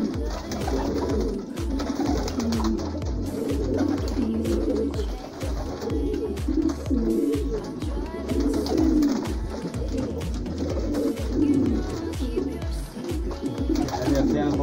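A flock of old-lineage pigeons being fed on a Wednesday afternoon coo in low, overlapping rhythmic rolls, close and continuous, while a person talks intermittently over them.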